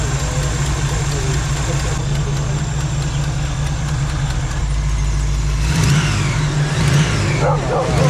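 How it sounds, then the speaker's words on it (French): A Camaro Z28 V8 idles with a deep steady rumble close by, low and even for the whole stretch, with voices faintly audible in the background. "elle tourne bien au ralenti"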